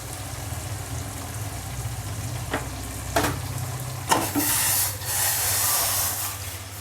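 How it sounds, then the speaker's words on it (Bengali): Spice paste fries in a pan with a constant close sizzle and hiss, broken by a few sharp stirring scrapes and a louder burst of sizzling near the end. "মশলাটাও ভাজা ভাজা হয়ে গেছে"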